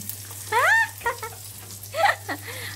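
Sliced onion fries in a pan with a soft, faint sizzle, broken by a few brief voice-like sounds above it.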